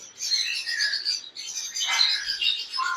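Black wing budgerigar breeder pair chirping continuously and close, a busy stream of high twittering warbles with short pauses.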